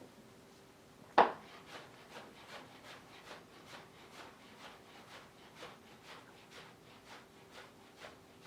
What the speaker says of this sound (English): when we dice the portobello, it's just like everything else that we've done today. We're just going to go ahead and slice it